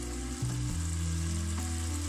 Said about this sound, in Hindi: अब इसमें हम डाल देते हैं बैंगन, फ्राई किए हुए बैंगन और आलू जो हमने फ्राई करके रखे थे मसाला लगाकर।